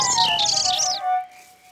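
Cartoon birds chirp and tweet in a quick, bright flurry of high calls, loud and close, for about a second, then fade into a quiet tone.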